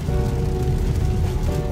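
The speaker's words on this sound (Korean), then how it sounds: "비가 오고 있습니다." Rain falling on a new Hyundai Tucson while driving, a steady dense patter over low road and engine rumble, continuous and fairly loud throughout.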